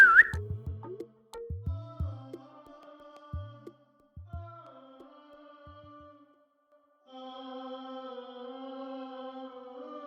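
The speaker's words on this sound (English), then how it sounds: "You hear a whistle" Clear tonal whistling, with short plucked low notes at the start, then a steady sustained whistle tone held near the end.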